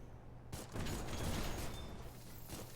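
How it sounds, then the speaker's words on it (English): Rockets fire at an enemy from long range in the video game Dolls Nest, a sudden burst of launches and rumbling blasts that sustains for about two seconds, then tails off into a lingering roar. "You fire rockets at them from far away"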